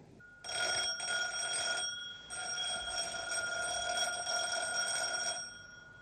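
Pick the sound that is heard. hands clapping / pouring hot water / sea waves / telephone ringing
telephone ringing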